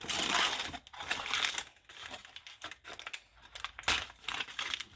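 Mint fudge being unwrapped from its wrapping, giving a close, crinkly rustle in irregular bursts with short pauses between them.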